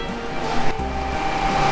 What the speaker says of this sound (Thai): นี่รถโม่กำลังเติมน้ำน้ำไหลออกมาเลยอ่ะดูดิ